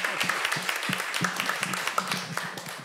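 A seminar audience claps for the moderator, a brisk, even patter of many hands that carries on steadily for a few seconds before easing off slightly.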